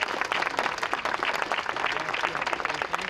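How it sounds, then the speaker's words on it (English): Audience at an education equity event at the Salem Capitol applauding steadily, a dense continuous patter of many hands clapping at moderate volume for about three seconds, with no speech. "Give yourself a round of applause for being here."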